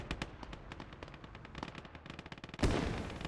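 Gunfire in the World War II game Gates of Hell, rapid bursts of machine-gun fire followed by a single heavy, booming shot that trails off.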